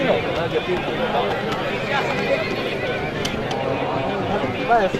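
A horse whinnies amid a noisy outdoor crowd at a tent-pegging fair, with babble and loud voices running throughout.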